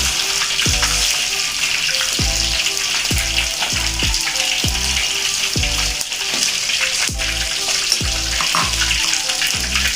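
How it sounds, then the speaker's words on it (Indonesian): Padang-style spiced chicken frying in hot oil: a steady, loud sizzle and crackle runs throughout, with occasional clinks and thumps from cookware. "langsung kita goreng ya Bunda ayamnya"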